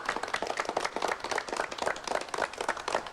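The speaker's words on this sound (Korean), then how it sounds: "두 분께 박수 좀 부탁드립니다" A 1983 Korean TV studio audience on a family game show claps together, a brisk, dense patter of many hands at steady volume that continues without pause.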